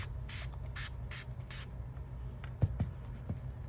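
Four quick hissing squirts from a spray bottle of water onto watercolor painting in a steady rhythm, followed by a few soft taps.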